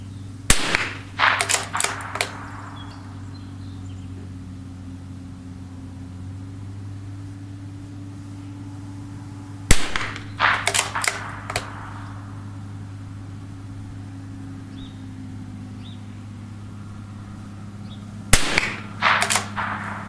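Three sharp .22 LR rimfire rifle shots spaced far apart during outdoor target shooting at long range, each a crisp crack trailed by a few faint pops, over a steady low electrical hum.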